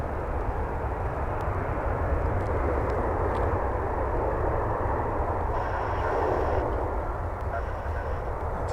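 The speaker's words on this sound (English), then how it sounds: "That was Avianca flight 440 coming in from San Salvador" An Avianca airliner arriving at DFW Airport from San Salvador produces a broad, steady roar of jet engines that holds loud and close for the whole stretch, with no voices over it.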